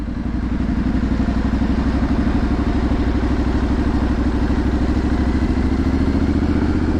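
A Triumph Street Scrambler motorcycle engine rumbles steadily and loudly in a town centre, a close, even, throbbing idle that holds without a break.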